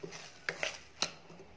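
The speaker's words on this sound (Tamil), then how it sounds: "இங்கே ஒரு கடாய் வச்சாச்சு," Metal kadai set down on a home kitchen stove, a few sharp clanks and knocks of metal cookware, close and distinct, spaced apart over quiet background.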